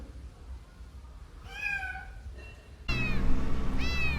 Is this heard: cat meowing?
yes